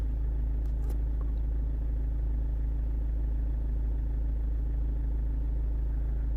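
A Ford Mondeo engine with a malfunction idles steadily, a constant low rumble with an even hum and no talk over it, holding level throughout.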